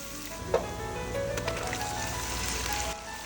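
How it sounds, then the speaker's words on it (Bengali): Garlic and ginger paste frying with onions in a hot pan, a steady loud sizzle throughout with a few spatters and stirring scrapes, no voices. "এক বড় চামচ রসুন বাটা আর একটা বড় চামচ আদা বাটা দিয়ে সেটাকে ততক্ষণ অবধি ভাজতে হবে"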